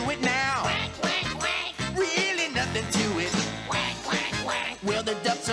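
Several voices imitate duck quacks in a children's television song, loud, rhythmic rounds of nasal quacking sung in a lively pattern over light music.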